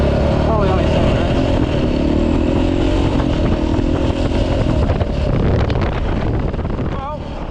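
A KTM 450 EXC custom adventure dirt bike is ridden home, its engine droning steadily and loud throughout with heavy wind buffeting the microphone and occasional clatter.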